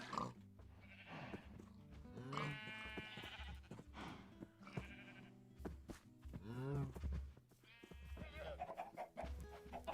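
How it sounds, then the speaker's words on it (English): Goat bleating in a Minecraft survival multiplayer world, several wavering cries that come and go through the stretch, alongside other game sounds and music. "Is that goat still there?"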